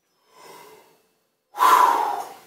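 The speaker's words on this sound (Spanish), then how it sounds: "Una respiración muy profunda hasta llenar totalmente los pulmones" Two audible breaths taken as a trumpet breathing exercise: a soft, airy intake followed after a short pause by a much louder, deep, forceful inhalation that fills the lungs, heard close up with no talking.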